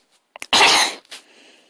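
A single sharp, explosive cough-like burst after a couple of quick intakes of breath, close and loud, then a softer trailing exhale.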